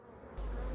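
Calm honey bees at an open hive during a mid-August honey harvest in Côtes d'Armor, a steady, close, dense buzz swelling in suddenly and holding loud to the end, no voices.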